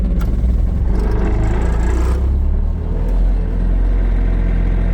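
Diesel engine of a John Deere 210G excavator running and warming up in cold weather, a steady loud rumbling drone with light clatter, close by and unbroken throughout.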